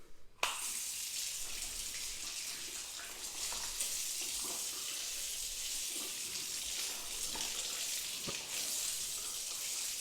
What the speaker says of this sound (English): so I'm going to rinse them off in that order